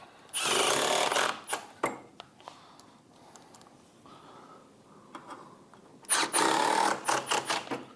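Screws driven in with a power driver to mount an electrical box, two loud whirring bursts at start and end with scattered clicks and knocks between, fairly close in a quiet room.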